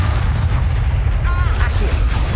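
An Expulso exploding spell detonates in the video game Hogwarts Legacy, a heavy, sustained low boom that rumbles steadily for a couple of seconds with a faint whooshing sweep layered on top.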